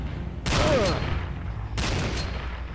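Gunfire aimed at ceiling cameras in the video game Command & Conquer Renegade, heard as two separate bursts of rapid shots with ricochet pings, loud and close, with a short pause between them and no talking.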